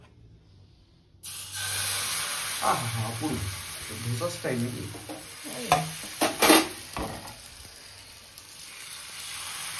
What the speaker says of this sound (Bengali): ব্যাস, চিল্কা যাচ্ছে প্যানে।